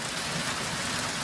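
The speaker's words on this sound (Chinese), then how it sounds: "这雨哗啦哗啦的" Heavy rainstorm pouring down outdoors, a dense, loud, unbroken roar of rain with no pauses and no voices.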